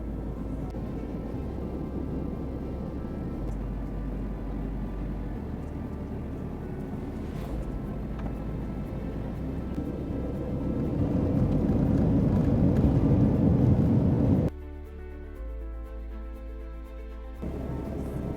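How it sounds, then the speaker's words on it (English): A Finnair Airbus A350 on approach to the runway at Helsinki gives a continuous low roar of engines and airflow, swelling louder near the end before dropping abruptly to a quieter hum. "The plane is approaching the runway."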